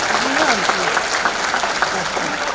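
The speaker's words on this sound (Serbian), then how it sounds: "To zaslužuje veliki aplauz." Applause at a charity concert rolls on steadily while a voice carries over it, the clapping dense and moderately close.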